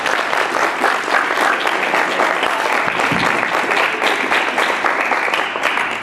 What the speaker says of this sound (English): So I want you to welcome him with a round of applause.